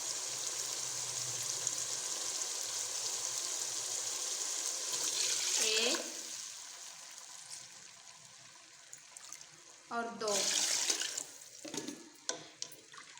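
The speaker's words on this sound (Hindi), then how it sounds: "मसाला अच्छी तरह भुन गया है, अब पानी डाल देते हैं।" Water poured into a pot of spiced chickpea pulao, with a steady splashing pour, then shorter gushes and trickles, while someone speaks briefly.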